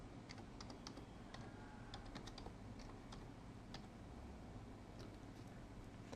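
Quiet, close typing on a computer keyboard, with irregular clusters of light key clicks over a faint room hum and no speech.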